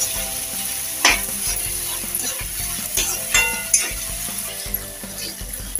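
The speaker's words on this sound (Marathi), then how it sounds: "इथे मी कांदा तेलावरती थोडा परतून घेते" Onion sautés in oil in a pan, giving a continuous loud frying hiss with scattered sharp pops and occasional clinks of a spatula stirring.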